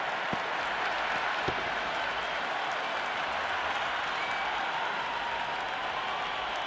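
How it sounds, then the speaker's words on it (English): Crowd cheering and applauding in the Cricket 26 video game during an India vs South Africa T20 warm-up match, a continuous dense roar of clapping that stays loud and steady from start to finish. "Will you listen to that crowd? They are loving this."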